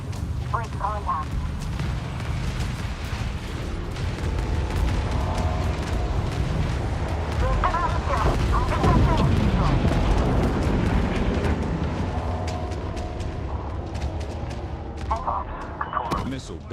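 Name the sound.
space battle fire and explosions in video game Homeworld 3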